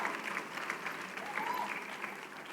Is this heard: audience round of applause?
yes